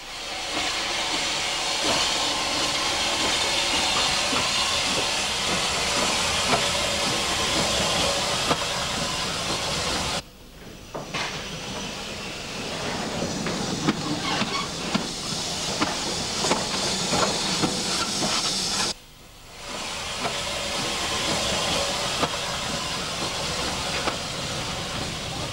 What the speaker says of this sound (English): An approaching train of horse boxes.